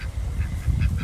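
Backyard flock ducks quack in a short run of a few close, nasal calls, fairly soft and with no talking.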